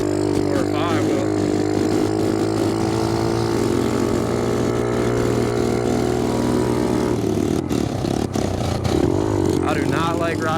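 A dirt bike engine drones steadily while riding over loose ground, loud and continuous with a slight dip and surge in pitch near the end.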